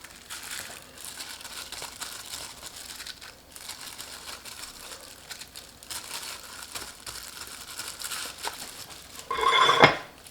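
Sesame oil and cooking oil mixed together in a bowl while making mugwort rice cakes, heard as soft clinking and scraping for several seconds, rising to a louder burst of rattling near the end, with no one speaking.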